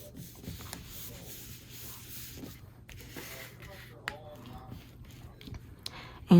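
Adhesive-backed paper pieces are burnished onto a folio cover with soft, close rubbing strokes in short repeated passes, ending with a brief louder bump.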